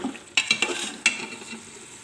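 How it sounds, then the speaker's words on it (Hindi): Chicken being stirred through cream in a hot pan, for white chicken: a soft sizzle under several quick scraping stirs, close and fairly loud, with a few spoon clinks and no talking. "क्रीम डालने के बाद एक बार फिर से हम चिकन को मिक्स करेंगे।"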